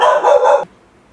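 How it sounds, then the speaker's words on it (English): A dog gives one loud, close bark that lasts just over half a second and then cuts off into near silence. "Please excuse my dog."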